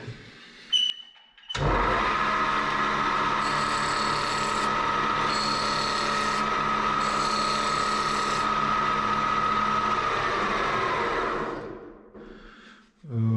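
Woodturning lathe spins a vase blank with a steady loud motor whine and the rasp of a chisel cutting the wood, running continuously for about ten seconds before winding down, no talk.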